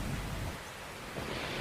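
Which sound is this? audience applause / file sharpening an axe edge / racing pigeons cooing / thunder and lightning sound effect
thunder and lightning sound effect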